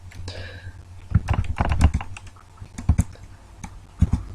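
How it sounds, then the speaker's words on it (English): Rapid keystrokes clatter on a computer keyboard in uneven bursts, close by, with brief pauses between runs of typing. "Typing the wrong things."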